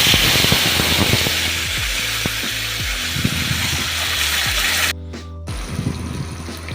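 Spice paste sizzles loudly and steadily in hot oil in a pan, a constant close frying hiss that dips briefly for a moment before carrying on.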